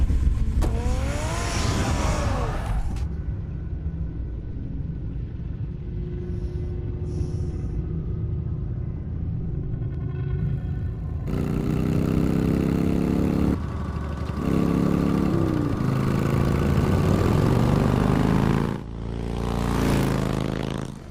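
Batman's car in the Batman Telltale Series game starts and drives off with a deep engine rumble that rises and surges in several loud bursts, separated by quieter, hollow stretches.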